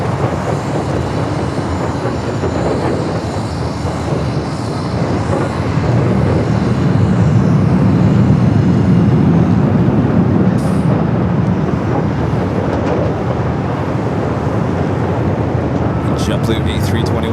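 An airliner takes off from runway 24 left at Los Angeles International Airport, a loud, steady engine roar swelling in the middle, heard from a distance with voices talking over it.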